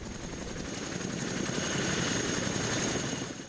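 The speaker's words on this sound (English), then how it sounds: "A helicopter will be coming in across the mountains" Helicopter approaching over mountains in Afghanistan's Pech Valley, a steady broadband rotor roar with a rapid chopping pulse, holding loud and constant throughout and swelling slightly toward the middle, with no voices.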